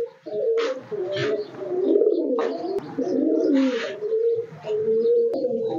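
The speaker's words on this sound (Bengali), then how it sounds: "আর্মি ব্লাড লাইনের কবুতর" Army bloodline pigeons at a loft give repeated soft, throaty coos close by, with faint chirps and wing rustles mixed in.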